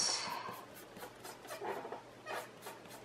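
Pencil eraser rubbing on paper during grid tangle drawing, a quick run of soft scratchy back-and-forth strokes, close and faint.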